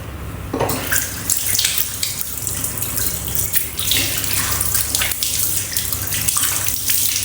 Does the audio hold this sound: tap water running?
yes